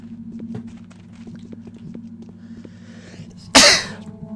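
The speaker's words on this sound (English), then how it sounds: "There's a sneeze." A single loud, sharp sneeze from a character in the video game Pathologic bursts out near the end, over a steady low ambient hum with faint footsteps and clicks before it.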